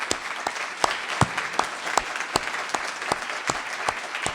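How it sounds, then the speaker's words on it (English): An audience at a city's State of the City event applauds a council member's spouse, a steady round of clapping with rhythmic sharp claps, moderately loud throughout. "we're going to give you a round of applause for everything that you do"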